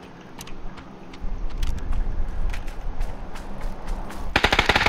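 Gunfire in PUBG, scattered distant single shots building into a loud, rapid machine-gun burst at the end, with a vehicle engine rumbling underneath.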